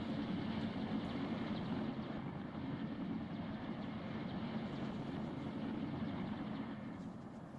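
A helicopter in the Task Force Athena game, Chenarus Redux campaign, holds a steady, loud rotor and engine drone for the whole stretch, with no talk over it.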